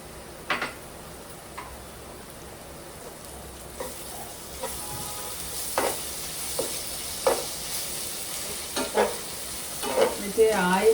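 Ginger-garlic paste fries with onions in hot oil for a fish curry, a low steady sizzle near at hand punctuated by several sharp scrapes and taps of a spoon stirring the pan, growing busier toward the end.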